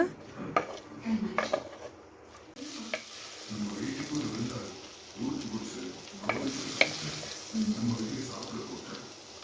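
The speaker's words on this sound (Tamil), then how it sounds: "அதே கடாயை வச்சு கொஞ்சமாக எண்ணெயை ஊற்றி இந்த வெங்காயமும் இந்த கேப்சிகமும் ஒன்றா போட்டு லைட்டாக ஒரு 1/2 குக் ஆறதுக்கு வதக்கி எடுத்துக்கோங்க" Onion and capsicum sizzle gently in a little oil in a kadai while a spoon stirs and clinks against the pan, with a voice talking over the cooking.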